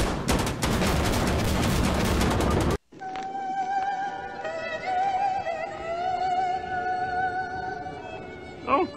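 Gunship gunfire in a video game sounds as a dense, loud rattle of rapid shots for a few seconds and then stops abruptly. Quieter game sounds and tonal effects follow, with a brief yelp near the end.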